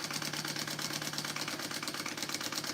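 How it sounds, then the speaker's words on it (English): A sewing machine stitches fabric at a quarter-inch seam allowance, sewing travel packing pods. It gives a steady, close motor whir with a rapid, even needle rhythm throughout, and no talk. "So I'm just sewing this on at a 1/4 inch seam allowance."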